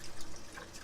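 A small amount of water is poured into a pot of Filipino pork afritada stew, a short splashing trickle lasting under a second, close and fairly quiet.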